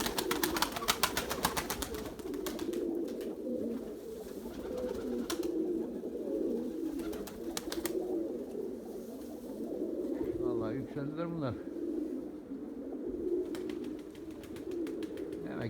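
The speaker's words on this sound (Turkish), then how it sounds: "Vallahi bir sürü kuş var havada." A flock of pigeons coos steadily throughout a long outdoor flight session, with bursts of wing flapping as birds take off and circle overhead, all fairly close and continuous.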